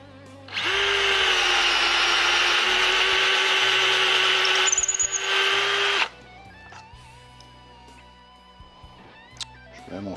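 A power drill fitted with a larger bit bores into a wooden guitar body, a loud steady whine lasting about five seconds, then stopping and leaving quiet handling sounds.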